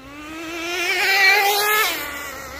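Traxxas Jato 3.3 nitro RC car with its Traxxas 3.3 nitro engine and two-speed transmission whines past, pitch rising then falling as it nears and recedes over a couple of seconds, loud and alone.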